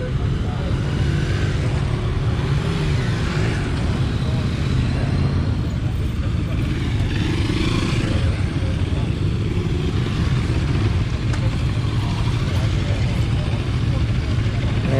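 A Motor Marine motorcycle engine at the ABR Festival, running in a steady, loud, continuous rumble amid outdoor event noise, with people talking throughout.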